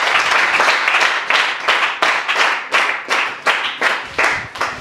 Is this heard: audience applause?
yes